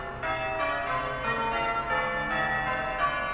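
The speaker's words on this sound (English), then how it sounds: "The old bells are ringing out." Church bells ring steadily in a continuous peal, loud and resonant, each strike blending into the next with no voices.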